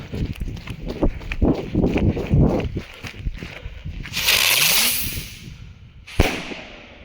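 A sharp firecracker bang bursts out near the end, following a fizzing, hissing stretch and earlier scattered crackles and shuffling.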